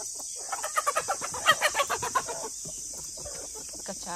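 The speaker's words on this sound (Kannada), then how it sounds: "ನಾಲ್ಕೈದು ಕೋಳಿ ಒಟ್ಟಿಗೆ ಇದ್ದಾವಲ್ಲ ಈ ಗೂಡಲ್ಲಿ, 6 ಕೋಳಿ ಇದ್ದಾವೆ" Several chickens cluck and squawk together in a small coop, a quick run of close, overlapping calls that peaks midway and then fades, over steady high background hiss.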